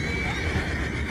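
A horse whinnies in Red Dead Redemption 2 during a tense in-game scene, a short, close neigh rising over a constant dense background of game ambience.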